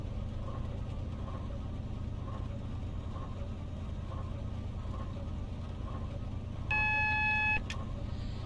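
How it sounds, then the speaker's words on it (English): A speed reduction alert in Train Simulator Classic sounds as a short electronic beep, near the end, over the steady low rumble of a train cab. "I think that is the alert for the speed reduction, not for the yellow aspect."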